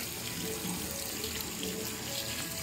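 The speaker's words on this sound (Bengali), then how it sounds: "পটলগুলোকে ভালো করে ধুয়ে নেব।" Tap water runs steadily into a kitchen sink while pointed gourds (potol) are washed, a constant close rush of water with no voices.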